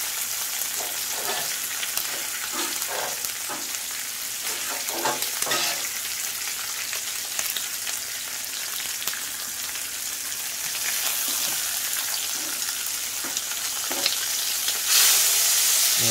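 Bacon fries on a Blackstone 22-inch tabletop griddle with a close, crackling sizzle and popping spatters. A few soft scraping or stirring touches punctuate it, and it grows slightly louder toward the end, with no talk.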